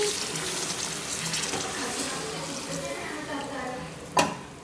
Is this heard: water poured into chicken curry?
yes